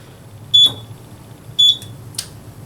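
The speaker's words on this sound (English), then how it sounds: "the closet smoke detector was activated" A smoke detector in a closet sounds its alarm: two sharp, loud high-pitched beeps about a second apart, each followed by a brief click, over a quiet background hum.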